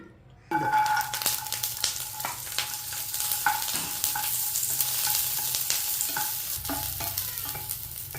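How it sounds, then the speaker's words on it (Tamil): Garlic frying in a pan for a curry leaf and garlic podi, a dense continuous crackling sizzle that starts abruptly and holds steady, with frequent scraping stirs, close and fairly loud. "பூண்டை நல்ல செவக்க வறுத்து எடுத்துக்கணும்"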